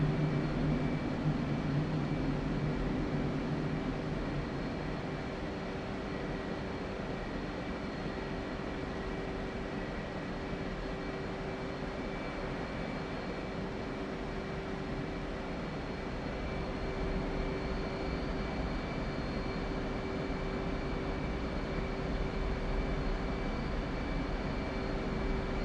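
An aircraft landing near an airport: a steady, distant engine drone with a constant whine that holds evenly and without interruption throughout.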